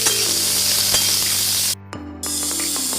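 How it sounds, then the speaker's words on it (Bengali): Raw pumpkin and chickpeas fry in a pan for a curry, giving a loud, close sizzle with faint clinks, broken by a brief near-silent gap before the hiss resumes. "সমস্ত কিছু ভালো করে ভেজে নেবো হালকা হালকা করে ভাজবো"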